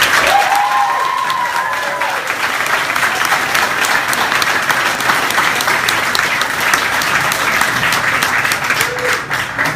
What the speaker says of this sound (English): Let's give our combatants one final round of applause.